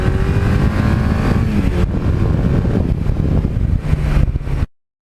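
A 1982 Suzuki GS1100E motorcycle riding on an autumn road, a loud continuous engine roar heavily mixed with buffeting wind noise, steady from the rider's position before cutting off abruptly.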